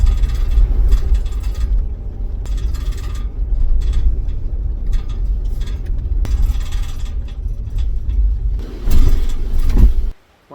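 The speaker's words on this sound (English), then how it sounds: "when I'm driving around, the rear of the vehicle sounds like it's falling apart" Rattling and creaking from the rear cargo area of a six-month-old Jeep while driving, with steady low road rumble under irregular clattering bursts that stop abruptly at the end.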